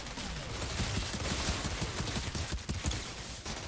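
Twin pistols blaze in a rapid, dense volley in the looter shooter Outriders, shots stacking into a continuous loud fusillade over game ambience with no talking.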